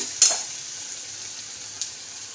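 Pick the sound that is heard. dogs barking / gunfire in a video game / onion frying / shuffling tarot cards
onion frying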